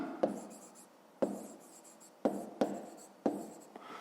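Chalk or marker strokes on a board during a fifth-grade maths exercise, a series of sharp taps followed by scratchy scraping, about five bursts spaced irregularly, close and clear with no talk.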